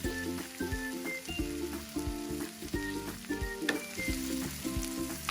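Onions frying in a pan with crab, a continuous crackling sizzle that runs under steady background music, with faint stirring scrapes now and then.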